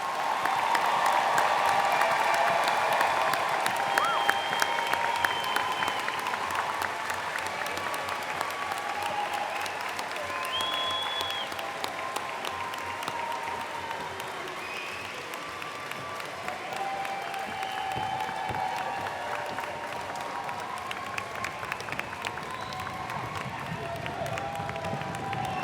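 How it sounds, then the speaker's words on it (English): Sustained applause for graduates fills a large hall at the SUNY Fredonia 2023 afternoon commencement, a dense, even patter of many hands that carries on steadily for nearly half a minute with a few faint cheers. "Let's give one more round of applause for the graduates."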